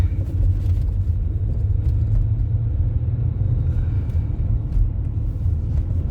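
Steady low rumble of a car driving over wet snow, constant road and engine noise from inside the vehicle, no talking.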